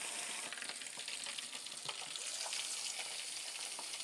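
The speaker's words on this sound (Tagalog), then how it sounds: "Dito lang po ako sa maliit nagpiprito sa loob ng room ko guys" Milkfish (bangus) frying in hot oil in a small pan indoors, a steady dense sizzle with scattered pops and spatter, close and continuous without talk.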